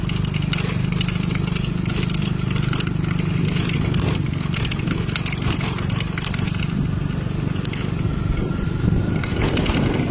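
A motorcycle labors over large rocks, its engine chugging and rumbling continuously with rattling and crackling from the rough ground, loud and close throughout with faint voices in the background.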